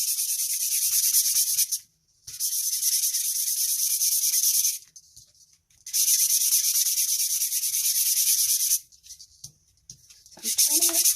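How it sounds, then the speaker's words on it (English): Sandpaper scratching across a sheet of shrinky dink plastic, a close, steady hissy rasp in three long strokes with short pauses between, no talking. "I'm going to scratch the other way, sideways"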